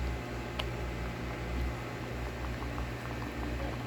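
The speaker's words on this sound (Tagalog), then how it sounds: "Kumukulo oh." Miracle fruit boils in a pot with a continuous bubbling, low churning hiss, close and steady, with no voices heard.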